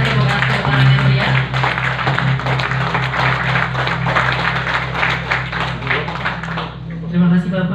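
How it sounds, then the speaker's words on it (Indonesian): Audience applause at the opening of a customary village council training session in Kandis, Siak, Riau: a loud, dense stretch of clapping lasting several seconds over a steady low hum, with some voices mixed in. "Silakan berikan tepuk tangan yang meriah."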